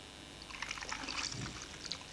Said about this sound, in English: We haven't got a running tap in the studio, so we're going to simulate using our jug of water